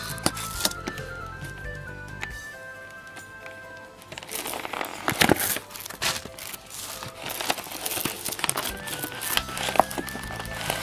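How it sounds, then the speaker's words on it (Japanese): Close crinkling and rustling of plastic packaging as a chrome-plated Kamen Rider Ghost eyecon toy is unboxed, with scattered crackles and clicks over background music. "それではこちらも開封していきます"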